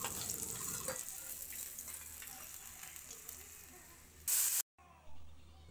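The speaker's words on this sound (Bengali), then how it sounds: "বাকি মাছগুলো একইভাবে ভেজে নেব" Tilapia pieces fry in hot oil in a pan, a close, continuous sizzle with crackling, a brief louder burst near the end before a short cut, and no talking.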